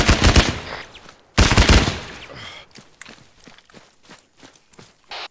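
Machine gun fire in the ArmA 3 military game comes in two loud, dense bursts close by, followed by scattered fainter shots and softer clatter in the background.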